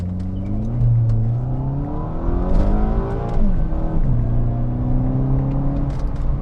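A tuned VW GTI accelerates hard at full throttle, the engine note climbing steadily in pitch, dropping at a gear change, then rising again, loud and close.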